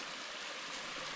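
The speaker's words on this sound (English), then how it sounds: "it's still a beautiful little waterfall" Harvey Falls, a beautiful little waterfall on the Foothills Trail with weak water flow, makes a steady, even hiss of falling water, close and continuous with no other sounds.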